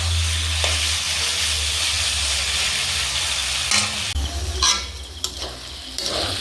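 Chicken frying with salt in a pan, stirred steadily: a continuous loud sizzle runs throughout, with scraping strokes and a few sharp clinks of a utensil against the pan near the end.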